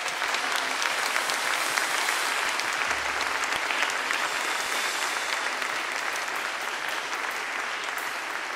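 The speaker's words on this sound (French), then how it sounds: "On aimerait les applaudir aussi." A church congregation applauds the newly baptized at a baptism service, a dense, steady wash of clapping from many hands that fills the space and carries on without a break, with no voices standing out.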